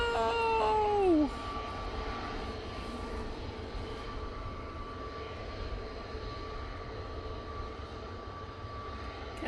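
Juneyao airliner taxiing at Manchester Airport on a windy day, a steady low engine hum with a high whine, distant and fairly faint, after a brief falling tone at the start.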